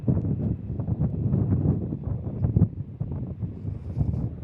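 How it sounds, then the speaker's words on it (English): Strong wind buffets a shotgun microphone at Kansas City International Airport, a steady low roar with gusty surges and rumbling throughout, no voices. "It is very windy today"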